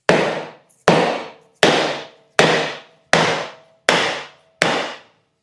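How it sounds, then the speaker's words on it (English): A wooden block strikes a bearing shaft in a mower deck spindle, seven sharp loud knocks at a steady rhythm, each ringing briefly and decaying before the next, with no talking. "we had to knock the middle one out with this block of wood"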